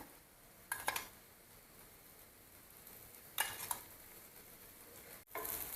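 A ghee dosa sizzles gently on a griddle, a low continuous hiss broken by a few brief clattering utensil bursts, quiet and without talk.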